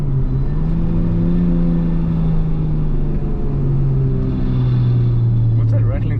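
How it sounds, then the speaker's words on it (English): Rebuilt Supra GT300 race car, very loud, running with a steady droning engine note that rises and falls slightly, a rattle from exhaust rubbing the gear under the roar, with people talking nearby. "What's that rattling sound? The exhaust at the back is rubbing at the gear, the clutch."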